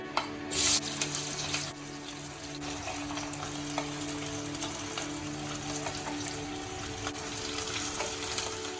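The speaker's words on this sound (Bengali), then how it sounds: "তিন চারটে কাঁচা লঙ্কা একটা টমেটো লবঙ্গ এলাচ দারচিনি রসুন আদা এগুলোকে আমি তেলের মধ্যে" Green chillies, tomato, cloves, cardamom, cinnamon, garlic and ginger fry in oil for an egg korma masala, giving a steady, close sizzle and crackle throughout with a brief louder burst near the start.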